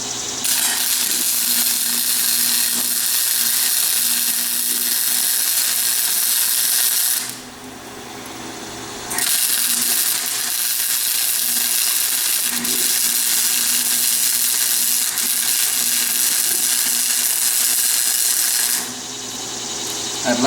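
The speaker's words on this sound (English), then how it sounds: "I'm going to tack it and then I'm going to take the clamps off and weld it up." A small, cheap MIG welder tacking and welding steel for a service truck cable tie organizer, a loud continuous crackling buzz in two long runs separated by a brief pause, close up with no talk.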